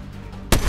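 A single sharp, loud sniper shot in a video game cracks out suddenly after a quiet hum, with a short rumbling tail.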